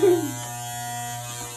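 Electric hair clippers buzz steadily at close range during a men's haircut, a loud continuous hum that starts with a brief higher whine and holds for under two seconds.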